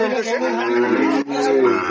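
Sahiwal bulls and calves at a busy livestock market in Joypurhat, with a loud, close, drawn-out moo that breaks briefly and resumes, with faint crowd chatter beneath.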